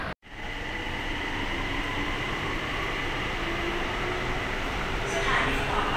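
A BTS Sukhumvit line skytrain sits at a station, its steady loud rumble and air-conditioning hiss filling the scene continuously after a brief opening gap, without any clear voices.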